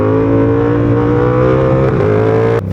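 A motorcycle engine on a London street revs hard and holds a steady, loud, close roar for the wheelie, dipping briefly near the end before picking up again.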